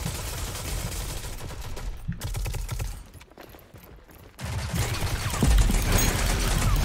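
Loud bursts of automatic gunfire in a Rogue Company multiplayer match, continuous rapid shooting that thins out into a quieter lull, then returns with heavy, dense firing and impacts.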